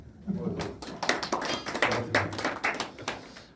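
A church congregation at a January spiritual awakening prayer meeting claps to welcome a visiting pastor, a scattered burst of hand claps mixed with someone talking over it.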